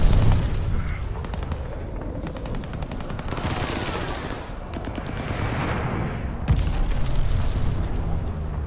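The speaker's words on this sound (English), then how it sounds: "Throwing grenade." Grenade blast in Call of Duty: Vanguard, a heavy boom buried in a loud, continuous wartime din of rapid machine-gun fire and other explosions.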